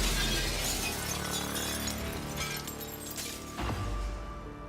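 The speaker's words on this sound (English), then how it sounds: "We'll smash the glass and climb down from our balcony." A glass window shatters loudly under a wrench strike in the video game Prey, a dense crash of breaking glass with scattering shards, then a second sharp break near the end.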